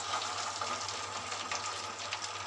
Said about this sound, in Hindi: डीप फ्राई करेंगे